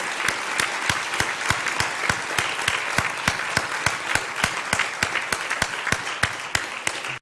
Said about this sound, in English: you really owe yourselves a round of applause because your questions were fantastic